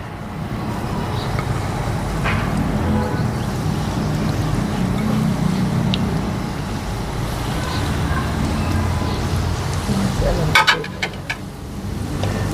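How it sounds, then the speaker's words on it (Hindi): Macaroni spring rolls frying in hot oil give a steady, dense sizzle that fills the whole stretch, with faint background voices and a brief clatter near the end. "तो अब हम इनको फ्राई करते हैं।"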